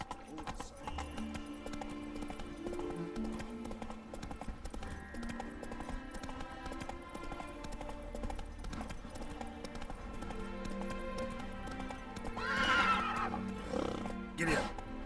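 A horse in the video game The Witcher 3: Wild Hunt, its hooves clip-clopping in a steady gait with neighing and snorts over game music and ambience, a louder whinny bursting out near the end.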